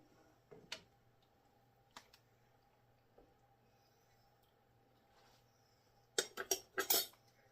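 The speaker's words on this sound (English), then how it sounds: "And then we'll do mix our sauce into our sour cream." Sauce is mixed into sour cream for Swedish meatballs in a very quiet setting. A few isolated soft clicks are followed by a quick burst of close utensil clinks and scrapes against a bowl.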